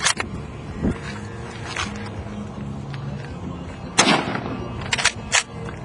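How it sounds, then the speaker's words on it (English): A K98 German rifle fires on an outdoor range: a few sharp, loud gunshots spaced out across the clip, with the biggest crack near the middle, over background murmur and faint voices. "Just make sure you get the actual rifle firing"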